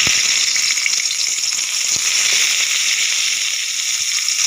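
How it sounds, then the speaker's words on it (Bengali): Eggplant pieces fry in shallow oil in a kadai, giving a steady, dense sizzle and hiss that holds evenly throughout without pause, close and fairly loud. "আমি বেগুনগুলো কড়াইতে দিয়ে দেবো"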